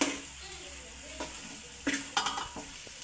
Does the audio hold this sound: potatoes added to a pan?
yes